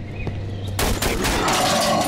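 Gunfire in the horror video game Cry of Fear: after a quiet moment, a loud burst of rapid shots erupts and continues densely to the end, with no talking over it.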